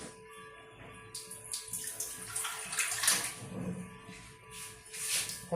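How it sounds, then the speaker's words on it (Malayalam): Water poured into a pan of melting jaggery gives a close, continuous splashing stream lasting several seconds, with small surges and gurgles and no talk. "ഇച്ചിരി വെള്ളം ഒഴിക്കാം."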